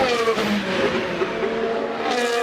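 Formula 1 race car engine, a high, tonal whine that sweeps up and down in pitch as a car passes by fairly close, alone with no talk.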